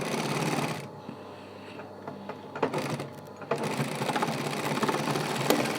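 A sewing machine tack-stitches the end of a jewelry bag. It runs as a loud, continuous whirring stitch that stops briefly partway through and then resumes steadily.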